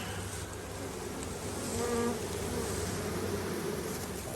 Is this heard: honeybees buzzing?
yes